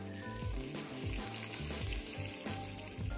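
Three large sliced onions fry in a pan with a little sugar, giving a soft, fairly faint sizzle with occasional stirring knocks and scrapes, heard alone without speech.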